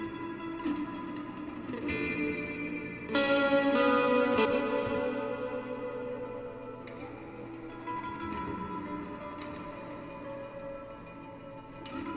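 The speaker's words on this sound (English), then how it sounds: "blend in this really, really long delay that can help turn my electric guitar into more of a pad" Sustained electric guitar notes smeared by a very long delay into a wash of overlapping echoes, forming a steady pad-like drone with occasional new chords layered in.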